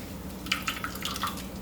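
Coconut milk dripping and trickling from a cloth bag of squeezed coconut pulp into a bowl, a series of small, close liquid drips and splashes over a quiet background.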